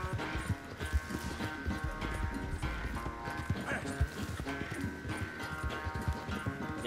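Horse hooves galloping in the Red Dead Redemption 2 video game, a rapid steady clip-clop rhythm under game music and background sound.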